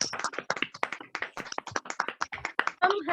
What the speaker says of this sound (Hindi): एक बार जोरदार तालियों से थैंक्स कहना चाहिए